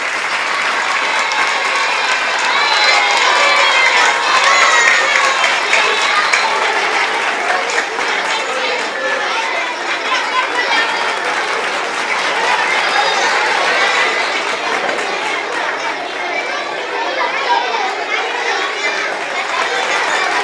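Loud, sustained applause from a crowd at a school annual prize ceremony honouring a student's sports wins, dense clapping throughout with a voice speaking over it.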